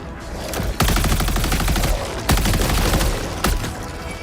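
Helldivers video game firefight, sustained rapid automatic gunfire broken by three sharp heavier blasts, loud and close throughout.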